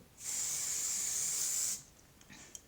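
A single steady hiss of makeup setting spray lasts about a second and a half, close by, followed by faint handling sounds.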